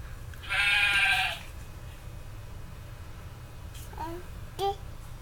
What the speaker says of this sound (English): What about a sheep?